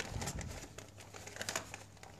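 Newspaper packing crinkles and rustles close up while a toy box is unwrapped, a steady run of papery crackles with sharper bursts scattered through the stretch.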